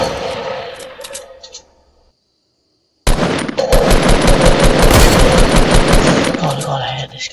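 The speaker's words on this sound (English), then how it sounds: "God, I hate the hunting rifle." Fortnite hunting rifle and other gunfire, a loud burst of shots that cuts to a second of silence, then a long, dense stretch of rapid, heavy firing close by.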